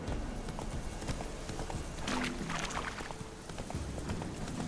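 Roach, the horse in The Witcher 3, gallops with quick, rhythmic hoof clip-clops over a steady outdoor background, close and moderately loud.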